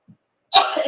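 A single short, explosive sneeze bursts out close by after a brief quiet intake, sounding loud and abrupt.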